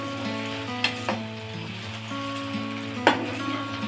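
Vegetables and paneer frying for vegetable biryani, a steady close sizzle running throughout with a couple of sharp pan clinks, no voices.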